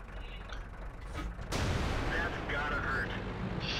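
A tank destroyer's cannon fires in World of Tanks with a sudden heavy boom that rolls into a noisy, rumbling decay amid mechanical clanks and battle noise.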